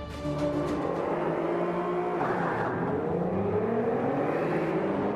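Racing hot hatch engines roar and rev continuously in Forza Motorsport 5, pitch rising and falling as gears shift, loud and close with a synthetic game-like tone.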